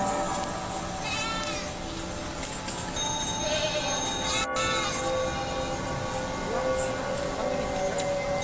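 A goat gives a few wavering bleats, one near the start and another around the middle, over a steady, noisy background that runs throughout.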